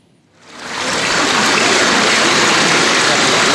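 Floodwater from the overflowing Cikenanga river rushes through flooded homes in Weru, Cirebon, West Java, a loud, dense, steady roar of flowing water that swells in within the first second and holds.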